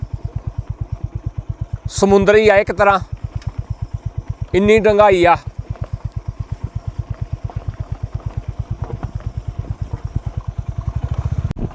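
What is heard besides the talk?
motorcycle riding over stones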